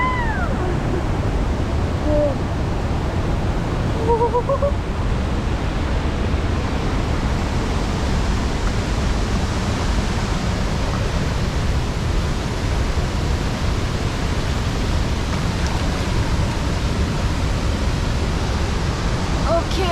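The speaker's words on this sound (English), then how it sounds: "this is the maximum I can go near the waterfall" Secret waterfall near Great Himalayan National Park, a loud, steady roaring rush of falling water heard up close and unbroken, with a few faint voices briefly audible beneath it.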